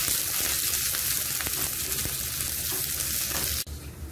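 Dried chillies and curry leaves fry in hot oil with a loud, dense, continuous crackling sizzle up close, which drops away abruptly near the end.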